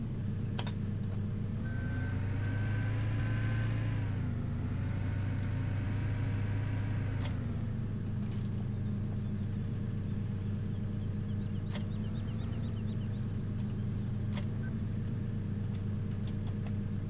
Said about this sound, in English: let's just grab a skid steer for the heck of it